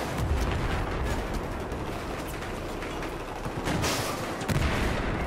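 Dense, continuous gunfire and launcher explosions from a Battlefield 4 match in Operation Locker, a dense barrage of overlapping bursts and booms with heavier blasts near the end.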